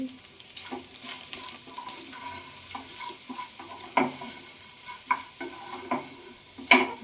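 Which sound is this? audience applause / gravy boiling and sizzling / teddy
gravy boiling and sizzling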